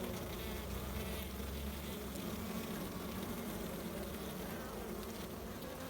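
Honeybees buzz inside a hive around the queen, a dense, continuous drone that stays steady and close with no voices.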